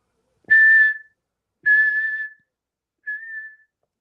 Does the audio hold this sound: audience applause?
no